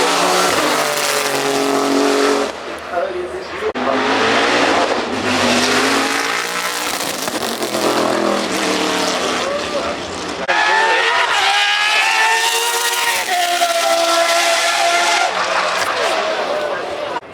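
Race cars at the Goodwood Festival of Speed, loud engines revving and rising in pitch as they pass, with tyre squeal and skidding, while commentators talk over the action.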